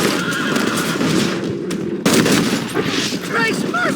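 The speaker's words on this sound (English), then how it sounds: "They're shooting right at me." Gunfire in the Red Dead Redemption video game: repeated shots and bursts ring out close and loud through a dense battle din, with horse whinnies and shouting layered into the mix.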